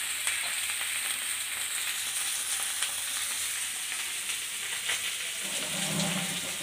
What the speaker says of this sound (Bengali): ততক্ষণ আমার আলুটা ভাজা হোক